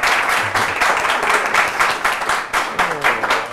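Audience applause at a live stage show, loud clapping in pulsing waves with a few voices mixed in.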